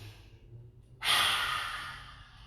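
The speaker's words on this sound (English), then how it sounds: "breathe in, breathe out, get that tongue out, breathe in" A single breath during a core vinyasa yoga workout, pushed out hard with the tongue out, a soft near breathy rush that starts abruptly and fades slowly after a quiet moment.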